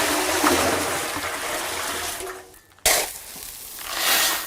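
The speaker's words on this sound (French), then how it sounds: "Au départ, on va mettre à peu près 2/3 de l'eau nécessaire pour la gâcher" Water pours into a concrete mixer drum in a loud, rushing splash that fades to a trickle, then surges again after a brief pause.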